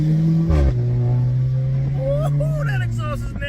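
A car's exhaust revs hard and loud, a deep steady drone that climbs and then falls away, with people talking over it.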